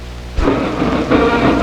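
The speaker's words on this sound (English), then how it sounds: "a driving rain out here" Heavy driving rain at an open-air football stadium during a college game, a dense steady hiss and patter with a low rumble, filling the whole moment without any voices.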